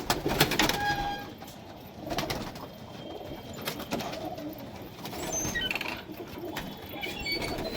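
Desi high-flyer pigeons coo softly at close range over a rustling, busy background of wing flutters and shuffling, with occasional brief chirps.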